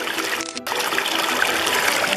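Water running over a small waterfall in a stream, a steady broadband rush heard close by and alone, with a brief dip in the flow near the start.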